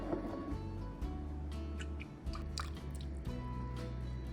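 Ketchup and other sauces plop and drip into a bowl, making soft, wet, squishy splats in quick irregular succession, close and fairly quiet.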